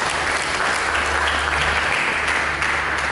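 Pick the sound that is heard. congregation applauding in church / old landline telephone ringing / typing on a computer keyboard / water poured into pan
congregation applauding in church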